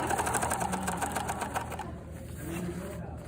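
A sewing machine stitches a collar onto a vest with a rapid, even mechanical chatter close by, running steadily for under two seconds before slowing and fading to a softer hum.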